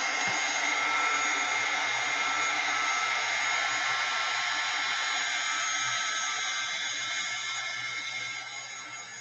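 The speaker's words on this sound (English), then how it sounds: "Gotta say, this heat gun is fantastic too." A heat gun used for paper and paint crafts runs continuously nearby, producing a loud, steady fan roar with a hissing airflow and a faint low hum that tapers slightly at the end.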